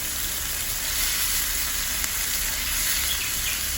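Beef strips sizzle in hot oil with garlic in a pan, a steady broadband crackle with occasional louder pops, close and continuous with no voices.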